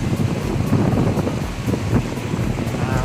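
Strong wind buffets the microphone at Cloud 9 beach in Siargao. The roar is loud and continuous, with surf-like rumble underneath and no pauses.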